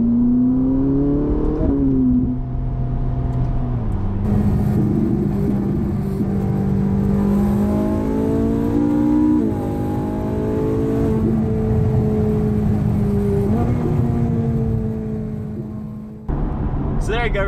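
A 2011 Ferrari 458 Italia with a naturally aspirated engine on a test drive, its exhaust note climbing through repeated rising revs with brief dips between shifts, loud and close throughout.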